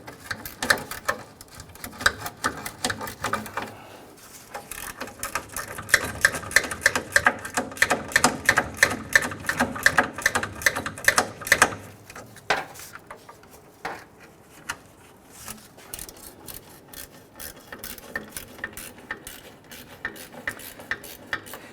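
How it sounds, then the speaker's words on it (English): Wrench tightening the spare tire hoist bolt on a Nissan Frontier, a long run of rapid, close metallic ratcheting clicks that pause briefly before resuming in looser bursts. "grab your wrench and let's go ahead and tighten that down"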